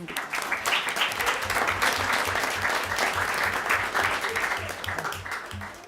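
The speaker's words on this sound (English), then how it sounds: "So we also want to clap for the teachers and parents who have supported the children." A school board meeting audience applauds teachers and parents with sustained, dense clapping filling the room at a steady level, a few faint voices mixed beneath.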